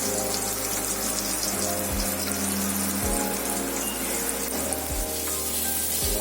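Bangda mackerel fish fry in oil over medium gas with a loud, continuous close sizzle and spatter that stays dense throughout, with a low steady hum beneath.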